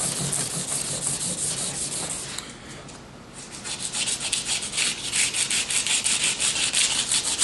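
An acrylic seam is sanded by hand, with rapid back-and-forth rubbing strokes that are loud and close, pausing briefly midway before resuming in a steady scratchy rhythm.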